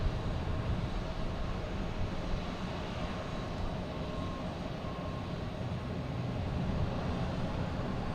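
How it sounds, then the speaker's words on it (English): American Airlines Embraer 175 jet arriving at Boston Logan Airport, a continuous broad roar of jet engines that stays steady and moderately distant throughout, with no voices. "We have an American Airlines coming in from Columbus. A Embraer 175."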